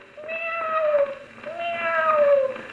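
A male singer imitates a cat's meow in a 1911 Santa Claus song recording, giving two drawn-out, falling meows in a row, clear and alone.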